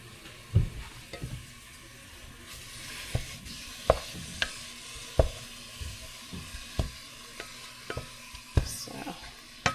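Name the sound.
ground meat cooking and being stirred in a pan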